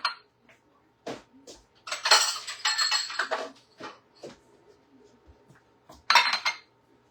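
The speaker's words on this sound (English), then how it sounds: "we're going to need all these dishes to put our different veggies in" Dishes being laid out for a buffet-style shrimp cocktail setup, sharp ceramic and glass clinks and clatters coming in several close bursts, with quiet gaps between the handling sounds.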